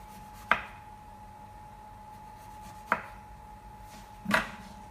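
A knife slices through black radish with three separate crisp chops spaced a couple of seconds apart, close and clear against a quiet kitchen background.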